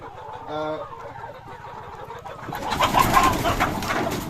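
Tiger breed chickens and roosters vocalizing close by, a short coo-like call followed by rising clucks and flapping noise, with a voice talking underneath.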